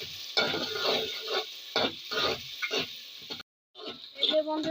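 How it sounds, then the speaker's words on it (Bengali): A spatula scrapes and stirs whole spices, including cinnamon pieces, frying in a pan for kosha mangsho. Repeated close stirring strokes ride over a light sizzle, with a short silent break before the stirring resumes. "সবকটা উপকরণ দিয়ে আমি এবার নাড়িয়ে দেবো, ভালো করে কষিয়ে নেব।"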